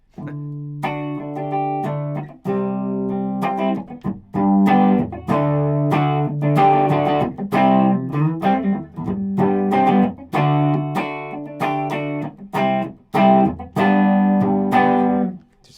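Electric guitar played through an RC Booster pedal, a boosted, slightly overdriven tone pushing the amp over the edge, chords and single notes ringing out with brief pauses between phrases, close and fairly loud.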